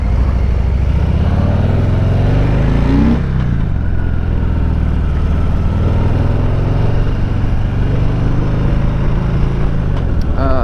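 A 2021 Harley-Davidson Heritage 114 cruiser motorcycle rumbles loudly and steadily while riding on the road, its deep engine note shifting slightly as the throttle changes.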